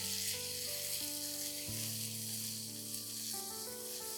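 Mutton curry sautéing in a pan gives a continuous close sizzle and hiss, with faint tonal hum in the background and no one speaking.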